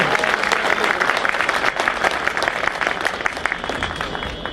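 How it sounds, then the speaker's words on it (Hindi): Lawyers at a Bar Council of Delhi gathering at Tees Hazari clap in support of their demands, a steady, loud burst of dense applause that carries on throughout. "ये तालियों से इसका समर्थन चाहिए"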